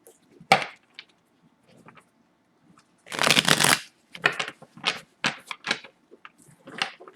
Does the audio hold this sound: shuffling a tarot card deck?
yes